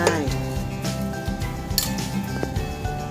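A spoon scraping and clinking against a pot while curry paste is stirred into coconut milk for a Thai curry, steady scraping with occasional sharper metallic clinks.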